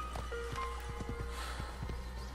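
Horse in the Assassin's Creed video game, with a steady clip-clop of hooves, a brief whinny, and a low ambient hum, at moderate volume with no voices.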